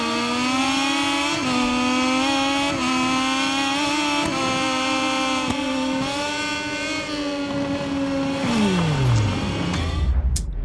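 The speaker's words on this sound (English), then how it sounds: "Oh, they sound like bloody mopeds." Racing motorcycle engines in MotoGP 22 (Moto2 class), a thin buzzy moped-like drone from several bikes, pitch stepping up through gear changes, then dropping away sharply near the end.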